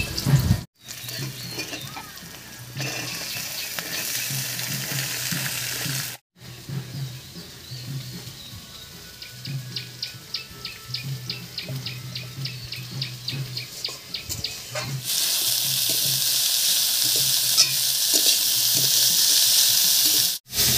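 Cut beans fried and stirred in a pan with onion and black cumin give off a steady close sizzle with stirring scrapes, growing louder and hissier toward the end.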